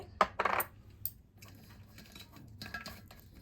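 Cashew nuts are dropped into a container while preparing a bread sandwich filling, giving a few quick, bright clattering taps close by, then fainter rattles.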